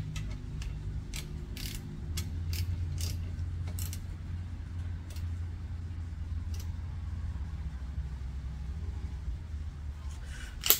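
A hand ratchet tightens the front brake caliper bolts on a Honda Fit, with scattered sharp clicks over a low, steady hum in a quiet workspace.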